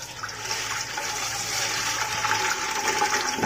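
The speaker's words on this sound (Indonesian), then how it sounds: "Kita tuang dulur ke wadah yang nantinya akan kita rebus." Liquid with fresh sea fish is poured steadily into a pot for boiling, making a continuous rushing, splashing pour close by with no talk.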